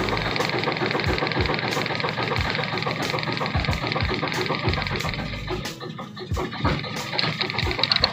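A Detroit Diesel Series 60 11.1 runs after a hard start, a loud, close idle with a rhythmic knocking pulse and some unevenness as it clears diesel from the cylinders.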